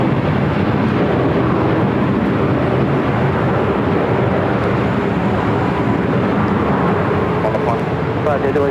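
An airliner takes off from runway 24 left at LAX: a steady, loud, broadband jet roar that holds without a break from start to finish.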